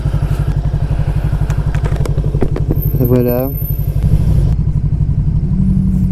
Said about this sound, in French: les premiers tours de roue de cette moto flamboyante, la Vosges 500R